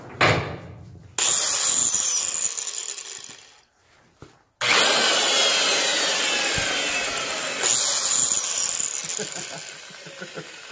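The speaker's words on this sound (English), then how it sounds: "we're gonna compare angle grinders quick" An angle grinder at a lumber yard whines loudly as it grinds, running in two long, close passes separated by a short near-silent pause, with a gritty rasp throughout.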